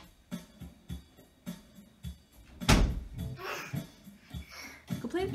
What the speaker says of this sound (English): Colty, don't slam that door, please.